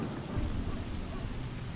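Steady rain and a low rumble of thunder from the video game S.T.A.L.K.E.R. Shadow of Chernobyl form a continuous, even wash of noise at moderate level.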